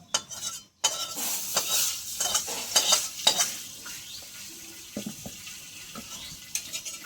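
Fried rohu fish is lifted from hot oil in a kadai, with a sizzle and crackle under sharp clinks and scrapes of a spatula against the metal pan, close and fairly loud, with no voices.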